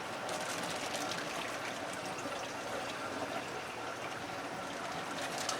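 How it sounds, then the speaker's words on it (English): Aquarium tank water pours and trickles into a plastic bag holding a rose anemone, a continuous close, fairly soft splashing flow with no pause. "introduce some of our water into the bag"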